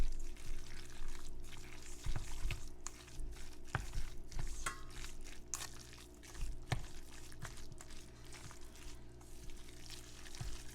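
Potsticker filling with sugar, salt and white pepper being stirred in a bowl: continuous wet, sticky squelching and scraping with irregular soft thuds over a steady background hum, no talking.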